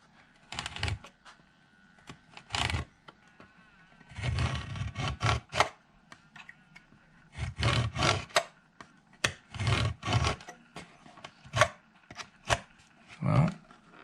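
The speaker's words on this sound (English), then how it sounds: "I want to leave enough that I have to scrape it down." A blade scrapes down wood over a crack repair on a Koa ukulele in repeated short rasping strokes. They come in irregular bursts with brief pauses between them, close and fairly quiet, with no talking.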